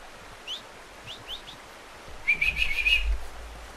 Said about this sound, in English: Whistle your horse.